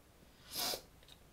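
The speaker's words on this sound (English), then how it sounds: "if you hear me sniffing and sniffling throughout this video" A single close sniff or snort from a person with a lingering cold, one short breathy burst in an otherwise quiet room.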